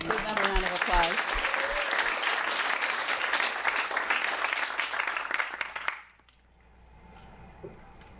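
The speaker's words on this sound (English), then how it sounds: "So let's give them a round of applause." Audience applause at a gathering on collaborations for the sacred earth, a loud, dense burst of clapping with a few voices at the start, cutting off abruptly after about six seconds into quiet room tone.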